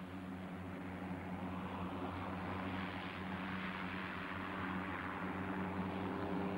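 Agricultural aircraft at a 1999 ag-aviation reunion flying low overhead, a steady droning engine roar with propeller hum that holds loud and constant throughout, with no talk.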